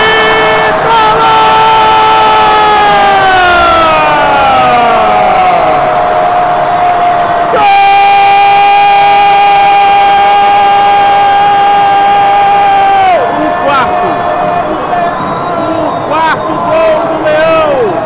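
Remo football supporters at Mangueirão stadium roar after a goal, a loud sustained crowd din with rising and falling horn or siren-like tones sweeping through it, continuous for the whole stretch.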